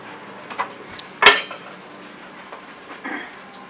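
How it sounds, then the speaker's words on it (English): A small iron skillet clanks and scrapes as it is handled in a kitchen before cooking bacon for a sour salad dressing, with a few light knocks and one sharp metallic clatter close by. "So what we've always used is a little iron skillet."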